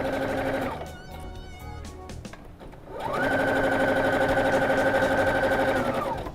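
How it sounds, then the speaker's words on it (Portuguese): A sewing machine stitches elastic onto fabric in two steady, fast runs, separated by a short pause filled with light handling clicks. "Eu vou esticar o elástico para o meio dele, que eu marquei, chegar no meio do meu tecido que está marcado também. E aí eu venho costurando."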